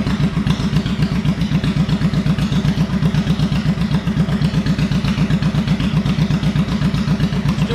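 A motorcycle engine idles close by, its fast, even thumping pulse loud and steady throughout, with the lights switched on during a charging system check for a bad regulator/rectifier.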